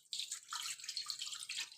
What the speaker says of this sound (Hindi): इस प्रकार से पानी को डाल लेना है।